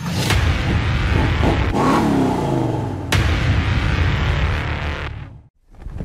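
A car engine revving hard during a controlled drift, loud and close, surging and sweeping up and down in pitch over several seconds before cutting off abruptly near the end.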